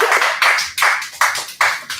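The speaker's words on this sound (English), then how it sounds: "Thank you very much for the electronic applause and the real applause." Applause mixing electronic and real clapping, arriving in several short, loud swells at an even rhythm, each one quickly fading.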